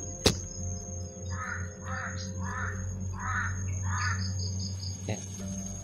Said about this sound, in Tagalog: May mga uwak, tol. Maraming uwak.